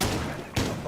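Breach charge explosions in Rainbow Six Siege, two heavy muffled blasts about half a second apart, loud and booming under excited esports commentary.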